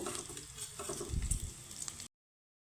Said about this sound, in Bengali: তো এই বড়ার মতো আমি ভেজে নেব